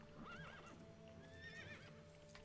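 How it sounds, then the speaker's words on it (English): A horse in The LEGO Movie 2 video game gives a loud neigh and whinny, followed by a quick patter of clip-clopping hooves, up close in a short burst with no speech. "Oh, there was a horse, I probably could have used the horse."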